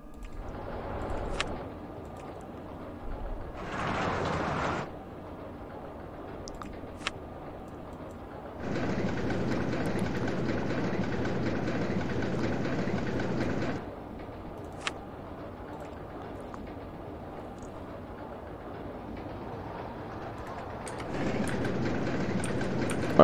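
A mini suspended roller coaster train in the OpenRCT2 park game rumbles past in several separate runs, a steady clattering roll that swells and cuts off, with faint ambient park noise and occasional clicks between passes.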